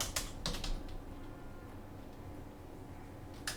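Keyboard keys tapped while entering an email address, a few quick clustered clicks near the start and again at the end, with a quiet room hum between them.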